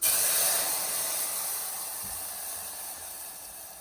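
Tomato paste sizzling loudly in hot spiced oil in a pan for restaurant-style tomato biryani, a steady close hiss that stays strong throughout.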